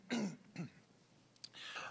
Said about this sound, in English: I'm sorry for my constant throat clearing and coughing and sneezing